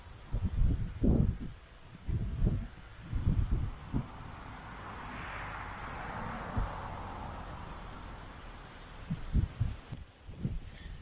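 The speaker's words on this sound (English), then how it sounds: "As I said, there is quite a bit of wind." Outdoor wind gusts buffet the microphone in uneven low rumbling thumps, with a steady windy hiss underneath; no one speaks.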